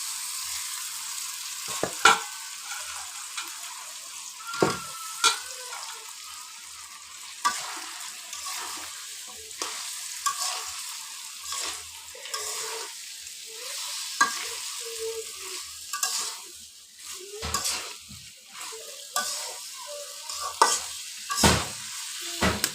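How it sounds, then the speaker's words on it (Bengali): Fish head and potato pieces fry with spices in oil in a kadai. The sizzle is steady and close, broken by repeated scraping stirs and clatter, with no voices. "মশলার সাথে অল্প একটু সময় ভেজে নেব"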